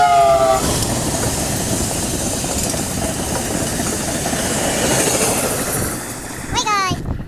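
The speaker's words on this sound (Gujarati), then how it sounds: "ફાઇનલી ટ્રેન આવી ગઈ, તમે જોઈ શકો છો." A small train passing close by in the rain, its steady rumble and rolling rail noise filling the scene, with brief voices at the start and end.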